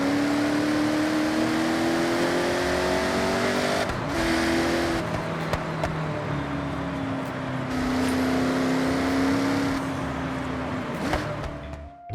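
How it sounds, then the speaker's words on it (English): Saleen S7 LM race car engine in the Forza Horizon 6 video game, a continuous loud whine climbing in pitch and dropping back several times as the car shifts gears, heard alone without voices. "They're driving the Celine S7 LM, and already it sounds so much better than Forza Horizon 5 in my opinion."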